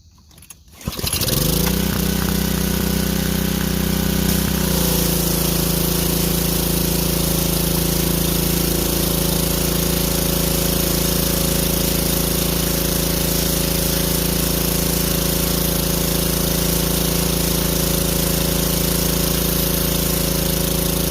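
A small power washer engine with a freshly cleaned carburetor fires after a brief pull and settles into a loud, steady, droning idle at close range, continuing unchanged with no speech.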